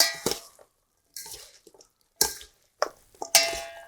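Brussels sprouts and apple salad with cranberries tossed in a bowl, giving a few separate bursts of clattering, scraping mixing sounds with short pauses between them, close and fairly quiet, with no talking.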